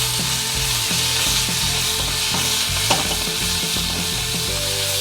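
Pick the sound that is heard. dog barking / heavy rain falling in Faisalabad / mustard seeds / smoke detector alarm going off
mustard seeds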